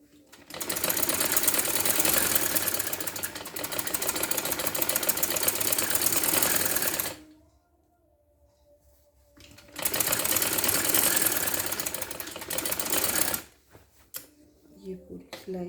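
Two long bursts of a sewing machine stitching a trouser run loud and close, fast steady mechanical whirring separated by a quiet pause with a faint tone, ending in short stop-start runs.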